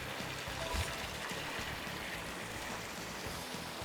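Rushing rapids in the Ty the Tasmanian Tiger video game give a steady, hissing wash of running water, constant and even, with a low churning texture underneath and no talk.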